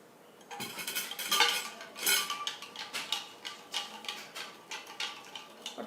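A mixture being stirred in a bowl, with a steady run of quick clinking and scraping taps of utensil against the bowl, close and fairly quiet.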